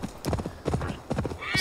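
A skeleton demon horse in Assassin's Creed Valhalla gallops with close, steady clip-clop hoofbeats, and a short whinny rises near the end.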